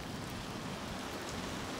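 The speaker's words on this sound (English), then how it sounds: "Rain and constant lightning strikes filled the sky" Steady rain from a storm over Southern Arizona, a constant even hiss of falling drops with no pauses or voices.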